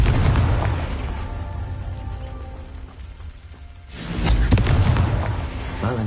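Confringo fire spell going off in the Hogwarts Legacy game: a deep rumbling blast that swells, fades into a crackling lull, then bursts again with a heavy, roaring boom.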